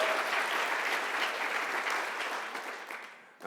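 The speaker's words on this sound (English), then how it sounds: "Give him a round of applause." An audience at a speech in Toronto applauds steadily for a few seconds, a dense wash of clapping that gradually fades out.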